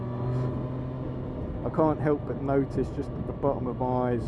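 A Triumph Street Triple 765 R motorcycle with its standard exhaust idles with a low, steady hum beneath someone talking throughout.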